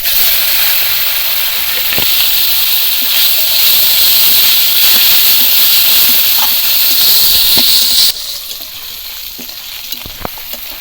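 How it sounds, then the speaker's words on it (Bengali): Fish oil hits a hot wok of mustard oil and sizzles loudly, a dense continuous frying hiss that drops sharply in level near the end, with no talking. "এবার এই মাছের তেলগুলো সব দিয়ে দেবো"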